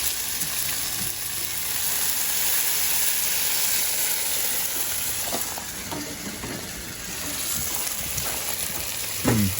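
Bacon sizzles and spits steadily on a Blackstone flat-top griddle hooked up at an RV, a loud, continuous frying hiss with a few sharp pops and a scrape near the end.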